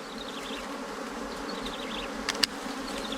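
Bees buzzing around a wild nest outdoors, a dense, steady insect drone with individual buzzes passing close, plus a couple of sharp clicks near the end.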